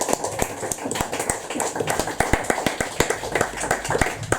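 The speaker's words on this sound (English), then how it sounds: "More applause for Andy." Audience applause for a reader at a poetry open mic night, a small room's worth of fairly close, uneven claps with sharp individual hand strikes and light chatter underneath.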